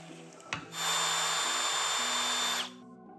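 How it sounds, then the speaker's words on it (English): A power drill bores a hole through a small homemade carbon fiber keychain part, a steady whirring grind of about two seconds that starts and stops cleanly, close and loud. "drill a hole to make it a keychain"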